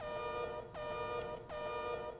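A synthesized siren from the video game Mega Man Zero 3 blares in repeating rising-and-falling cycles, loud and continuous with a buzzy electronic tone.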